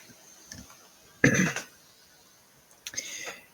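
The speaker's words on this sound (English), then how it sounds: "Cough." Two short throaty coughs separated by a pause, close and fairly loud, in an otherwise quiet room.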